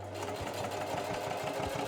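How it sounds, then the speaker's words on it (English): Sewing machine stitching fabric pieces for a gig bag made from a band backdrop, a steady close mechanical whirr with a fast even stitching rhythm, running alone throughout. "before I sew other fabric pieces onto it"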